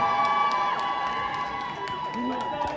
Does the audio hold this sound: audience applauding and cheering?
yes